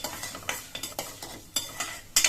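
Chana dal and urad dal frying in a pan, stirred with a utensil in quick repeated scrapes and clinks over a soft sizzle, close and alone.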